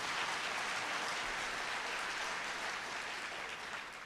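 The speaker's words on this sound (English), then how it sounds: "I think he deserves a round of applause." An audience at a large convention gives a round of steady, even applause, a soft distant wash of many hands clapping that continues without a break.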